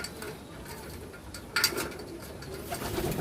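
Racing pigeons for sale coo softly in a loft, a low, steady murmur of calls with a slightly louder bird sound around the middle, close by and unaccompanied by speech.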